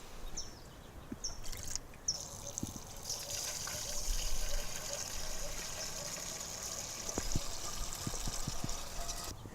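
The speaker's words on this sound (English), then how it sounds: "And I'm just going to use a watering can" Dechlorinated water trickling from a watering can into a container being filled to its max line, a steady soft pour with a few faint clicks and bird-like chirps in the background.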